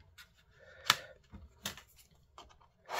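Scissors snipping through card, a few sharp, sparse cuts close by in an otherwise quiet room, no talking.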